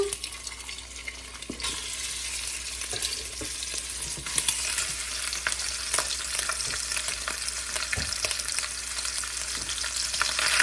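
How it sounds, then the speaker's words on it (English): Hot ground sausage sizzles and fries steadily in a pan with occasional scraping stirs, a close, continuous hiss with no talking. "Then I have 1 pound of hot ground sausage. I'm going to put that right in that pan."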